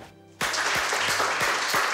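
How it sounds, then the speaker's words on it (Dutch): Applause breaks out suddenly after a quiet moment, a dense burst of clapping from a small group at a restored castle tower, steady and close. "Applaus voor jullie."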